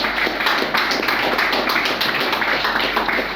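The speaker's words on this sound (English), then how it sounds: "Let's clap for the Black Stars." Steady, dense clapping from a large crowd honouring Ghana's Black Stars football team fills the space continuously, a broad, even wash of hand claps with no break.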